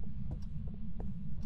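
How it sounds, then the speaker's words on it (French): A low, muffled heartbeat throbs steadily in the Phasmophobia ghost-hunting game, a dull repeated pulse over a constant hum, with no talking. "j'ai eu des battements de cœur dans les oreilles"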